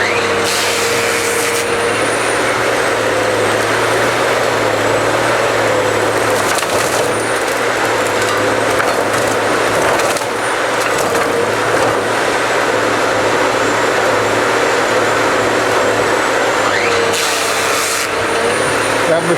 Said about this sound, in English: That machine measures it and cuts it to the right length for the various products.